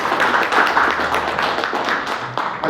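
A seated audience at a business meeting gives a steady round of hand clapping, dense and continuous at moderate volume.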